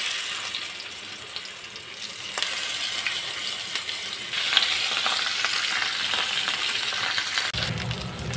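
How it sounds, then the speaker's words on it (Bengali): Pieces of rui fish fry in oil in a frying pan, a steady loud sizzling hiss with occasional crackles and a clink of utensils, no voices. "আমি এখন ফ্রাই প্যানে তেল দিয়ে দিব, দিয়ে মাছটা ভাজি করব।"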